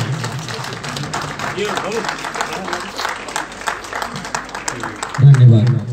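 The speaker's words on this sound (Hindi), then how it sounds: "सभी दर्शकों से अनुरोध है कि ताली बजाकर समारोह का सम्मान करें" Audience applause breaks out at a memorial ceremony honouring a fallen soldier, a dense, continuous patter of many hands clapping at moderate loudness that swells near the end, with some voices mixed in.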